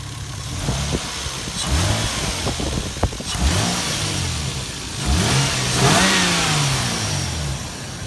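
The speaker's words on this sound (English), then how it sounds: "Engine run for about 15 minutes." A boat's engine, a naturally aspirated GS300 unit fitted during a project build, runs steadily and loudly with rising and falling revs, its pitch sweeping up and back down several times over a continuous mechanical drone.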